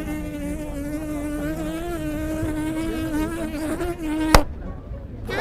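A mimicry performer imitates a mosquito with his voice, a steady, loud, nasal whining buzz that wavers slightly in pitch for several seconds before a sharp click and a short pause.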